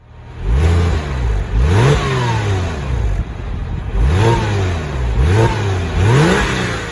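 A 2000 Porsche 911 Carrera (996) with stock exhaust revs hard several times in quick bursts, pitch sweeping up and falling back between each blip, loud and close.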